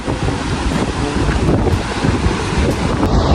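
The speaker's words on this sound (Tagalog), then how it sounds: "Mahangin." Gusty seaside wind on a Zambales beach roars across the microphone in a loud, steady rush, with breaking surf churning underneath and no voices.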